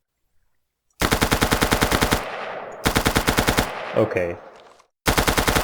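SMG fire in the Minecraft Guns 2.0 mod, loud rapid automatic bursts of about a second each separated by short pauses, with reverberant tails and a brief spoken word between bursts.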